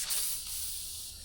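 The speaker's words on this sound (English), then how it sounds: "I'll spray a little WD-40 on these" Short hiss of WD-40 sprayed from an aerosol can onto a toothed burr bit, a faint quick burst that tapers off.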